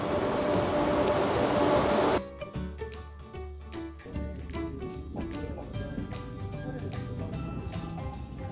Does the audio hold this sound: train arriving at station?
yes